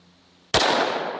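A single Magnum Research Desert Eagle pistol in .44 Magnum fires a 240-grain jacketed hollow point round, a sudden sharp, loud blast that cracks out of near quiet and then rings and decays briefly.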